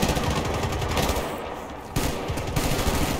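Sustained assault rifle fire in the video game Battlefield Bad Company 2 rattles out in rapid automatic bursts, with a brief lull in the middle before the fire picks up again, loud and close.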